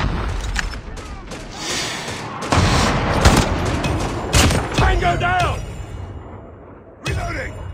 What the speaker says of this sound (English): Napalm deployed.